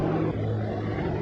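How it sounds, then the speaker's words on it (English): Propeller airplane arriving, its engine drone steady and moderately loud with a slight shift in pitch partway through, heard alone in an old 1935 film soundtrack. "And now, they're arriving by airplane."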